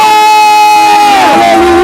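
Church congregation at a lively worship service cheering and ululating, a sustained trilling chorus of many voices with shouts rising over the music, loud and continuous throughout.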